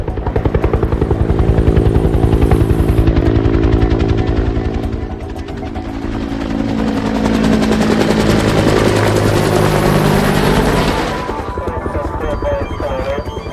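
A helicopter flies low overhead in a tense action-movie scene, its rotor chop loud and steady throughout, swelling and easing slightly as it passes near.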